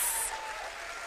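A poetry slam audience at the London finals breaks into brief applause for a poet, a short burst of clapping that quickly fades to a faint murmur.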